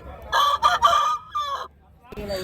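A rooster crows loudly and close by at a rooster market in Nallapadu, one drawn-out call with rising and falling pitch, followed by a brief pause and a short squawk at the end.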